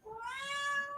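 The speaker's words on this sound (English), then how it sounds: "She is a boisterous cat." A boisterous cat gives a single drawn-out meow, rising and holding for about a second, close and clear with no talking.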